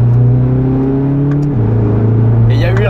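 Corvette C8 Z06 naturally aspirated V8 revving loud and close, a raw, steady engine note that drops in pitch midway and then holds, with a brief rattle near the end.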